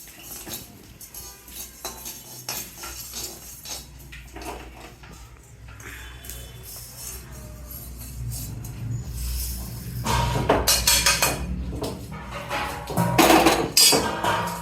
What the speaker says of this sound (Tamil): எள்ளு பொரிஞ்சிடுச்சு. எள்ளை எடுத்து கொட்டிக்கலாம்.